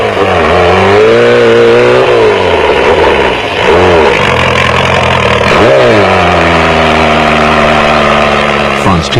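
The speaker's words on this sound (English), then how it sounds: "with the Porsche motor in the V-Motors Raceco working overtime" Porsche-engined Raceco space frame off-road race car in a 1994 desert race, engine loud and close, revving hard in repeated rising and falling sweeps with brief dips as the driver works the throttle.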